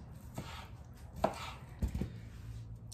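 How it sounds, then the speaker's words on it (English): Knife chopping food on a cutting board in a home kitchen: a few sparse, soft, close-up thuds spaced irregularly, with no talking. "And just give that a chop."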